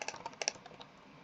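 Quick bursts of keystrokes as numbers are typed on a computer keyboard, close and fairly soft, clustered early and then thinning out into sparse taps.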